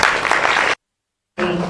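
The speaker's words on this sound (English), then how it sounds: "a round of applause" Dense clapping from a crowd stops abruptly for about half a second, then resumes just as loud.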